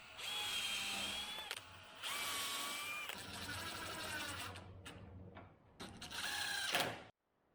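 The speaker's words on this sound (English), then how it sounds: "I drilled in this pattern because it makes the leg more strong and prevent the wood from splitting." Power drill boring holes into a wooden workbench leg, running in several loud bursts with rising whine, brief pauses between them, and a final surge before it stops.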